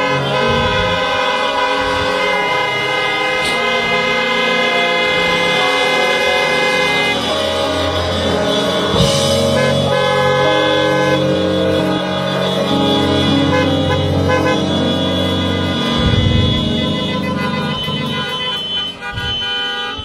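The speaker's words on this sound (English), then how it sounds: "Now, if you love this church family, come on, honk your horn for me." Many car horns blare together at a drive-in church service, a dense sustained chorus of honking that stays loud and steady throughout, with no talk over it.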